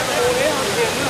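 Linguo waterfall at the start of a mountain trail in Nantou's Fuxing hot-spring area gives a loud, steady roar of falling water over a short moment, with a faint tone gliding across it.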